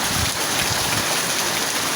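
Soft, steady hiss of light rain, a dense even patter with some low wind rumble and no voices.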